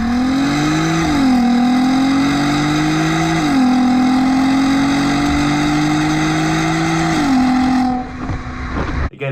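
A close VR6 engine revs repeatedly in a smooth, rising howl, climbing and dropping several times before cutting off near the end.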